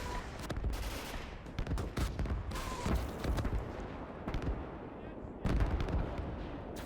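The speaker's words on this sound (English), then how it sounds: "Another rocket barrage is out." A rocket artillery barrage in the video game Gates of Hell, a rapid string of loud booming launches and blasts overlapping in dense bursts, with a voice speaking briefly amid the din.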